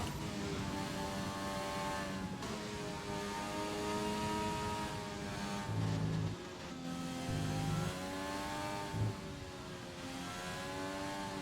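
A Formula 1 car in the racing game F1 2020 on the Vietnam Grand Prix circuit, engine whining steadily with its pitch dropping in several stepped downshifts, loud and close with no talk.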